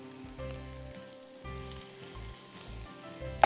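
Onions sauté gently in a pan as prawns go in, a soft, even sizzle beneath rhythmic background music, with a small knock at the end.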